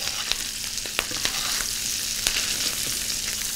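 Meat browning in fat in a hot pan for a vol-au-vent, giving a steady close sizzle with scattered crackling pops and a few spoon taps, no talking.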